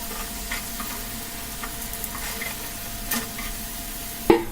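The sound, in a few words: potato and rice flour snacks frying in oil, being removed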